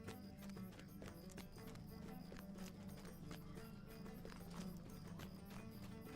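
Horses at the stables in the Lord of the Rings Online video game, with a steady run of hoof clip-clops and a brief whinny set under a continuous bed of background music, all quiet and low in level.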